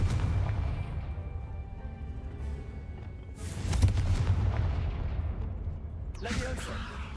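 Confringo fire spell blasts in Hogwarts Legacy: two booming bursts a few seconds apart over a low rumbling game background, with a voice heard.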